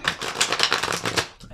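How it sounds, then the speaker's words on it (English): Rapid riffling and flapping of playing cards being shuffled, a dense crackly burst that pauses briefly near the end. "just shuffle the shit out of them, make sure that we're getting clean cards"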